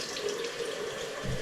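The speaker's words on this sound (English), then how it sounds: "So what I'm going to do is just run some hot water, wet my face," Hot water runs steadily from a tap into a sink during a morning face-washing routine, a constant close hiss and splash with no talking.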